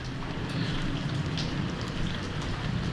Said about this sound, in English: today it's raining, so I'll try to find something to do undercover.